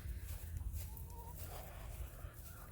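Backyard hens squawking and clucking in a garden, faint and somewhat distant over a low rumbling background, with short irregular calls scattered through.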